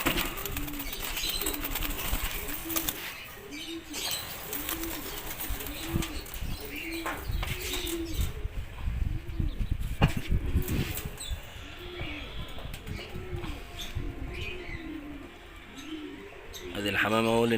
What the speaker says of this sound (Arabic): ادي الحمام اهو للناس اللي ما شافتهوش